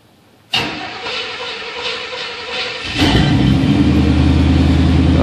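An old truck engine cranks on a cold day, a loud starter whir that breaks into a running engine after a few seconds, then settles into a steady, close idle with no voices.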